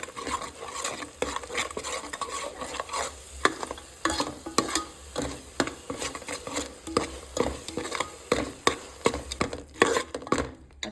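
A spoon stirs a spice mix with coriander powder in a pan for chicken curry, making repeated close scraping clinks against the metal over a soft sizzle, with no talking.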